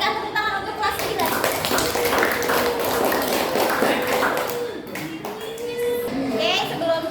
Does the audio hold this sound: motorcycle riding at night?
no